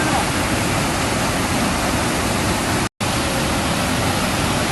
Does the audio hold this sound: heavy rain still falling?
yes